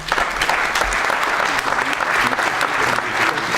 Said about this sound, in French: Applaudissements une nouvelle fois.